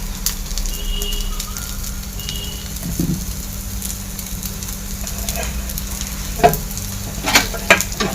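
Paddu, small dumplings made from leftover dosa batter, fry in a pan with a steady close sizzle, broken by occasional sharp clinks and taps toward the end.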